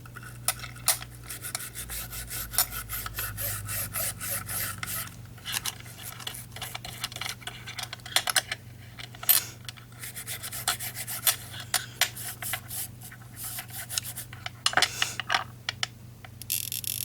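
A finger rubs lubricant onto a 3D printer extruder rod, producing close, irregular soft rubbing and scraping strokes in uneven bursts over a faint low hum.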